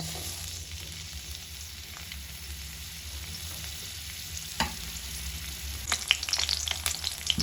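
Ginger, garlic and green chili frying in a few spoons of hot oil, a low steady sizzle with occasional stirring clicks, growing busier with scraping and crackling toward the end.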